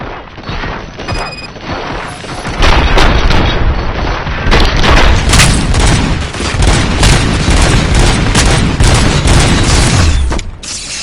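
Gunfire in the video game Robocop: Rogue City comes as a dense, loud, sustained barrage of shots and booms, with crashing impacts layered together for several seconds.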